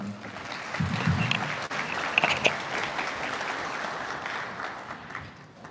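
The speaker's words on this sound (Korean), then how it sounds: "따뜻한 박수로 맞이해 주시기 바랍니다" An audience at a school admissions information session claps warmly to welcome the principal, steady applause throughout, fairly soft and distant, tapering slightly toward the end.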